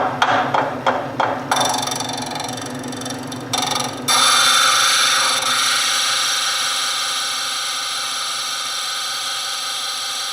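A power tool grinding with a 100 grit diamond abrasive: several short sharp contact bursts, then a steady high whining grind that runs on continuously and slowly fades, close and loud.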